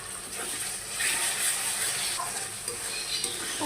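Cumin, ginger and garlic pastes sizzle and fry with chicken in a pan while being stirred, giving a steady crackling hiss with occasional scraping, close by and with no talking.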